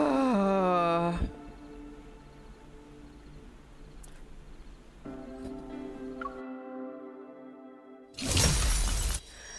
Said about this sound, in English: As the protocore cluster shatters